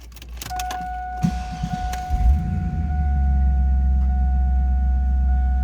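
A 2002 Chevrolet Camaro SS 35th Anniversary convertible cranks briefly, then catches and settles into a loud, steady low idle rumble, while a constant dashboard chime tone sounds throughout; no one speaks.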